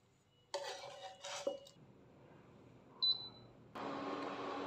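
Clatter and scraping of a clay pot being handled in a home kitchen while braising vegetarian snakehead fish with straw mushrooms, in short knocking bursts with a brief ringing clink, then a steady noise near the end.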